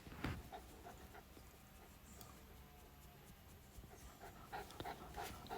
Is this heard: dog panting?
yes